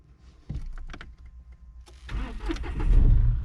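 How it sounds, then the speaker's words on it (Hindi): Car engine started with the clutch pressed: a few mechanical clicks and a starter crank, then the motor catches and builds into a rising idle rumble, close and fairly loud, with no talking. "आप क्लच को दबा दिए, आप गाड़ी को स्टार्ट कीजिए"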